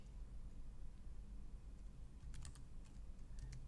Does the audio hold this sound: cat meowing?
no